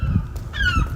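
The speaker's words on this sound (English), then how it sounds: "The seagulls making some hawk noises." Seagulls call with loud, drawn-out honking cries, one near the start and a clearer, longer call in the second half, over steady low background rumble.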